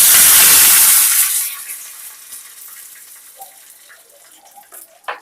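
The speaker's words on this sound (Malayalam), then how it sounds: "കരിവേപ്പിൻ്റെ ഇലൊക്കെ ഒന്ന് കഴുകിയെടുത്തോണ്ടേ" Curry leaves rinsed under running water in a kitchen, a loud close gush at first that quickly fades to quieter splashes and drips.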